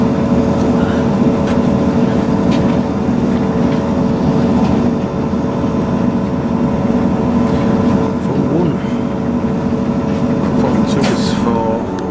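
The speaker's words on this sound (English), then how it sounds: "This is our next train now" Express train arriving at Meadowhall station: a steady loud rumble and hum of rolling rail stock fills the whole stretch, with faint squeals near the end.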